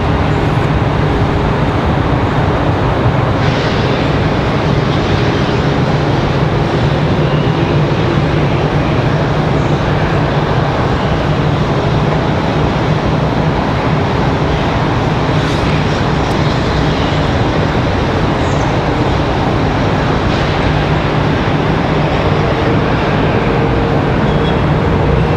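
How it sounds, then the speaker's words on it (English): An Airbus A319 jet airliner arrives from Orlando at Raleigh-Durham airport, its broad, loud engine roar sustained steadily throughout with no breaks. "It's going to be another A319. So again, this one from Orlando."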